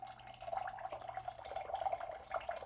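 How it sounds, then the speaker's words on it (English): Hot water poured from a tap into a container while making pizza dough, a steady close-up splashing trickle with small fluctuations throughout, no talk. "Let's add our hot water."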